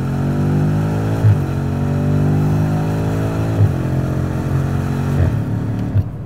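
A 600 hp BMW M5 F90 xDrive accelerates hard through the gears, its engine note climbing steadily and dropping at each of several quick upshifts, loud and close from inside the car.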